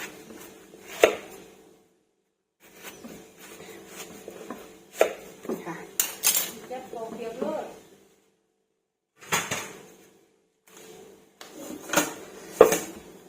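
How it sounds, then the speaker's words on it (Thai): Young jackfruit being sliced thinly with a knife for a Thai jackfruit soup, giving sharp chopping knocks in bursts with pauses, close and fairly loud, while someone talks over much of it. "ค่ะหั่นบางๆนี่ด้วยค่ะ"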